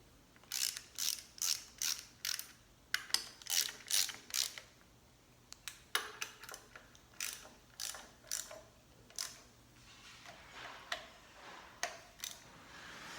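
Close ratchet clicks come in steady rhythmic bursts of several clicks per stroke, repeating for many strokes with short pauses and no talking.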